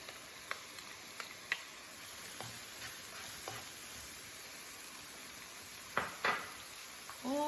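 Garlic added to translucent onions sizzles softly in a pan, a faint continuous frying hiss broken by a few sharp clicks and scrapes of a utensil stirring against the pan.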